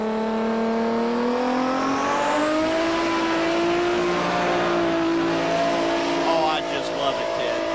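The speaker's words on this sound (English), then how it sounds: "This is a big Detroit V12. Listen to the sound of it." A big Detroit V12 diesel engine in a big rig at a truck pulling event roars loudly, its pitch climbing and holding as it revs under load, with a voice speaking over it.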